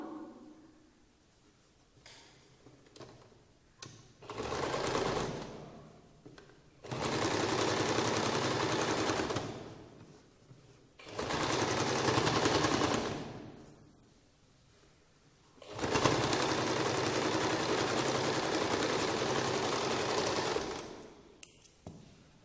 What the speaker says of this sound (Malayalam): ഇവിടെ ഒരു സ്റ്റിച്ച് കൊടുക്കാം